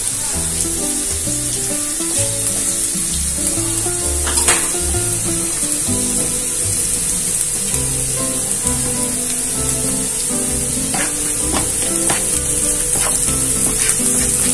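Onions softening with a sprinkle of salt in a frying pan sizzle steadily and loudly throughout, with occasional light clicks of a stirring utensil and no talking.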